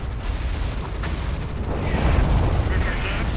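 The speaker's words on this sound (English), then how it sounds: "Artillery fire on our position." Artillery fire in the real-time war game Tom Clancy's EndWar, heavy booming blasts and rumbling impacts swelling louder toward the end, with radio-style voice chatter mixed in.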